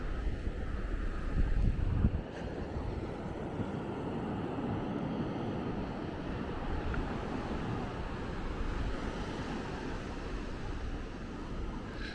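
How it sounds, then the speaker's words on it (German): Ocean waves wash onto the beach by the Maspalomas dunes on Gran Canaria, a continuous faint surf rush mixed with wind buffeting the microphone. "mir kommt so vor, als ob die Wellen etwas nachgelassen haben"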